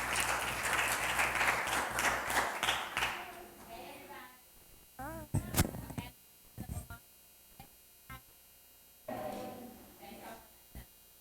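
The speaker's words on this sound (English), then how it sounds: "So let's give them a round of applause." Brief applause from a student advisory council meeting audience welcoming a presenting group, fairly loud at first, then fading into scattered claps and a few voices.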